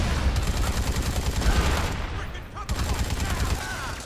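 Rapid bursts of gunfire in the video game Dead Rising 3 crackle loudly and densely, with a short gap before the shooting resumes.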